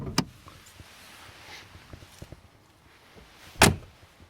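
Mercedes-AMG G63 door, a 2025 facelift model: a sharp latch click opens it, soft faint handling clicks follow, then a firm, heavy slam shuts it near the end, close and with no speech.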